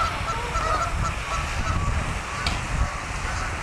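Geese honk repeatedly beside a lake, their loud, close calls overlapping in an uneven series against an open outdoor background.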